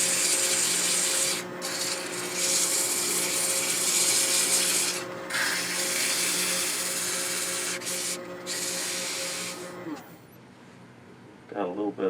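A small scrap-wood Christmas tree ornament is sanded on a lathe turning at reduced speed, a loud continuous abrasive rub over the motor's steady hum, with short breaks before it stops near the end.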